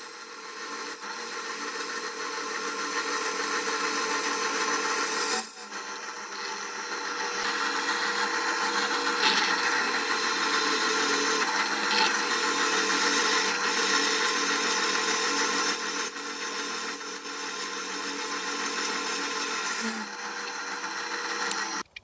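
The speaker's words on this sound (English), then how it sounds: "so let's go ahead and start to drill them through so we can mount the linear rails on" A drill bores holes through metal to mount linear rails on a DIY CNC metal lathe, a steady close grinding whir running nearly unbroken for over twenty seconds with a brief break early on.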